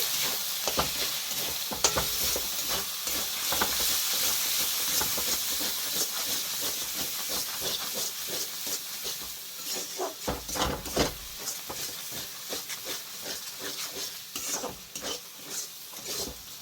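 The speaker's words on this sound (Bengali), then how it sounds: "আমি 2 থেকে 3 মিনিট ভালো করে মশলাটা কষাই নেব" Spice paste with coriander powder and peas fries in rendered chicken fat for ghugni, a loud hissing, steamy sizzle broken by repeated scraping and stirring strokes, dipping briefly midway then resuming; no talking.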